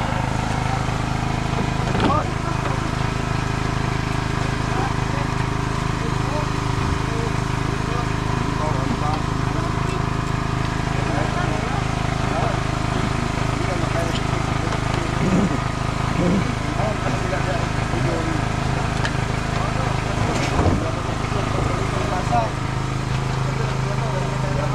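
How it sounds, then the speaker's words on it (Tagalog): A boat's engine, one prone to overheating, runs continuously: a steady, droning mechanical hum holds at a constant level throughout, with voices talking now and then over it. "kaya ang makina natin lagi na lang halos mag-overheat"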